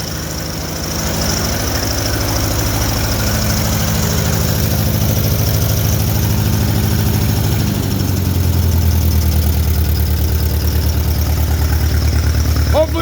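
An old Allis tractor engine runs close by with a loud, steady, throbbing chug, its pitch settling lower partway through as it keeps running.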